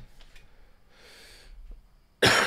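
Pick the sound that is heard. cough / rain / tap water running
cough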